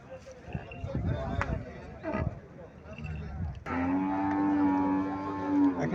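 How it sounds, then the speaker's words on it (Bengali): A small Haryana cow moos in one long, loud, steady call after several seconds of talk and shuffling, the voice continuing under the first part. "একটা গাভী দেখা যাচ্ছে"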